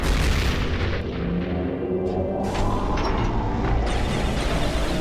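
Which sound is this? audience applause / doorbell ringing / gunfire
gunfire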